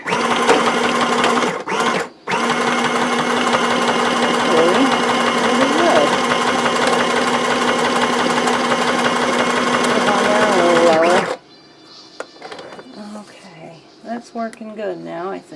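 Sewing machine stitching fabric pockets: a loud, steady mechanical whirring hum runs close for about eleven seconds with a brief pause early on, then stops as a person speaks.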